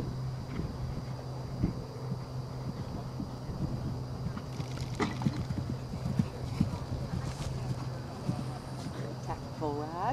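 A horse being ridden at a stadium in Pinetop, its hooves clip-clopping in a steady irregular patter through a noisy outdoor setting, with people talking over it.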